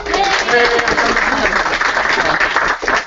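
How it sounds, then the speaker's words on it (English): Audience applause at a live software demonstration event, dense steady clapping filling the whole stretch with a faint crowd murmur beneath it. "How about a round of applause for Rina?"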